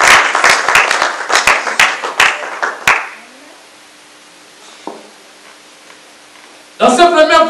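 Congregation at a church service bursting into loud clapping and cheering, dense applause for about three seconds before fading into a quiet hall, then another loud burst of voices and clapping at the end.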